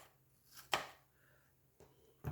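A knife chops onion on a cutting board in a few sparse, sharp strikes separated by quiet pauses, heard close but at low overall level.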